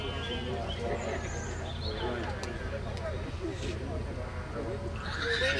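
At an outdoor horse show, a horse whinnies faintly and briefly amid steady crowd and arena noise, with people talking nearby.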